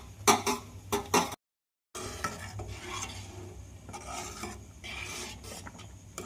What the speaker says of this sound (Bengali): সেমাইটা এবার ভালো করে নেড়ে নিতে হবে।